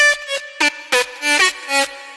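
A vocal-like synth lead played through very hard distortion stabs out a short melodic phrase of clipped, buzzy notes with gaps between them, bright and upfront with nothing else underneath.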